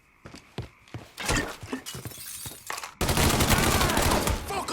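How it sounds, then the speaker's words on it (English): Enemy gunfire in the video game Mafia 3, with a string of close, loud individual shots and impacts that gives way to a dense, sustained roar of continuous firing and crashing debris. "Fucker won't stop shooting!"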